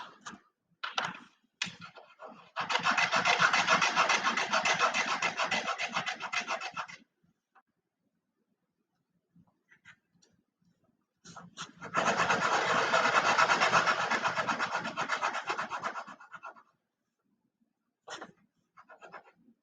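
Wood sanded by hand on a corner section in two long, steady rasping strokes, each lasting several seconds, with short scuffs and taps between them, close up and fairly quiet, with no talking.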